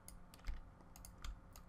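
Several quiet, sharp computer mouse clicks, spaced irregularly over a second or two, made while picking colours with an eyedropper tool during gradient mesh editing.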